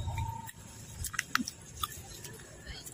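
Close, soft chewing of cucumber and pineapple pieces mixed with masala, a few small crunchy bites and wet mouth sounds over outdoor background murmur, with faint voices nearby.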